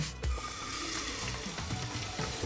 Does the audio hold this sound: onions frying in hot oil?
yes